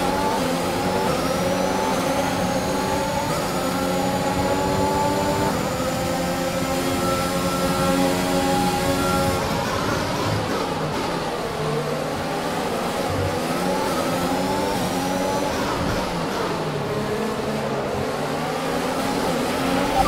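A high-pitched Formula 1 racing engine in the F1 2021 video game, Azerbaijan Grand Prix, whines continuously, its pitch sweeping up and dropping through gear changes, loud and close with a steady mechanical roar underneath.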